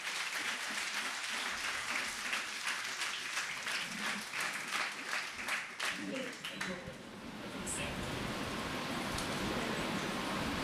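A church congregation at a fasting prayer service claps together in a dense, sustained burst that thins out toward the end, with voices heard amid it.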